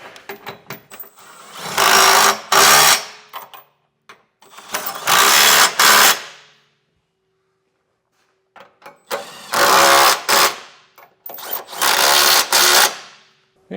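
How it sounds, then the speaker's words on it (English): A power tool with a 19mm socket drives trailer hitch bolts on a 2022 Lexus RX 350, sounding as four loud, close whirring bursts of about two seconds each, separated by short pauses and one longer silence. "We'll tighten our hardware down with a 19mm socket."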